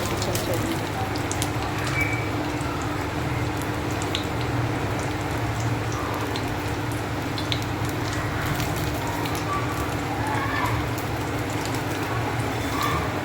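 Rain falls outside a kitchen in a dense, even hiss that stays constant and fairly loud, with no voices over it.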